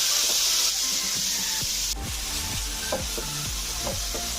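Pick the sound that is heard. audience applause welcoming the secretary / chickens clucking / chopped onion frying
chopped onion frying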